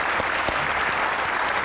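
A studio audience claps loudly as a poet is welcomed onstage at a comedy talk show, a close, dense burst of applause filling the whole moment with a few sharper individual claps poking through.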